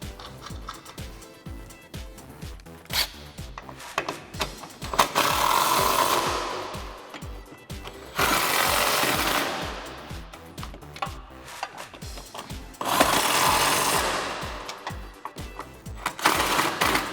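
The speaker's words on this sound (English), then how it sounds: "I'm going to take my 13 millimeter on my 3/8 drive electric gun and tighten these up" A 3/8-drive electric impact gun tightening 13mm strut nuts while installing Challenger lowering springs, firing in three rapid hammering bursts of a few seconds each, separated by clicks and handling noise, close and fairly loud.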